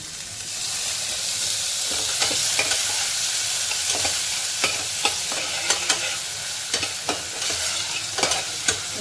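Onion and a small tomato sizzle and fry steadily in hot oil for tempering, with sharp stirring clicks and scrapes recurring throughout and no talking.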